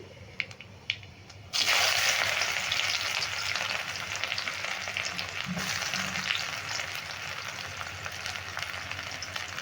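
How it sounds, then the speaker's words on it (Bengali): Nigella seeds and chopped onion hit hot mustard oil with a loud, steady sizzle that jumps in suddenly after a quiet start and keeps crackling close by, with no talking. "এখন আমি দিয়ে দেবো ফোড়ঙে কালো জিরে তারপর দিয়ে দিচ্ছি পেঁয়াজ কুচি"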